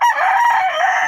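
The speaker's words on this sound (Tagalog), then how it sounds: "maingay pala yung inahin ko kasi malapit lang" A rooster crows close by, one loud sustained call that fills the short span without pause.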